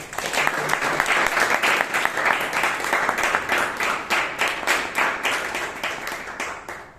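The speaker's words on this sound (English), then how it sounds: "Let us give a big round of applause." Applause from a Toastmasters meeting audience in Bangalore, a dense, steady clapping that holds loud for several seconds and then tapers off near the end.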